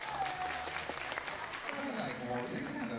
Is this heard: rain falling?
no